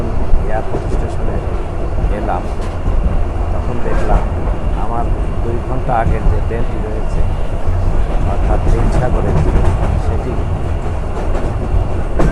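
Rangpur Express passenger train in Bangladesh, a loud, continuous rumbling roar of carriages in motion with people talking over the noise.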